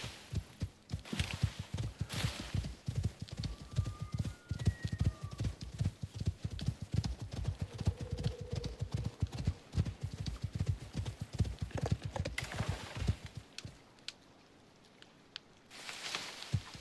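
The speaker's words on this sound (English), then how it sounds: "Your horse running looks like it's gotta be fixed." Horse hooves galloping in the video game Icarus, a fast steady clip-clop rhythm running continuously and fairly loud before cutting off near the end, with no talking over it.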